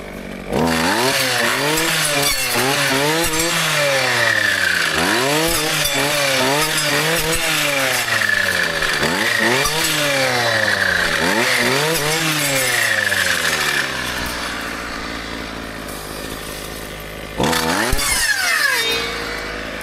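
Brushcutter cutting through vegetation during a day of brush clearing, its engine loud and close, revving up and down in a steady repeated rhythm before easing off briefly and surging again.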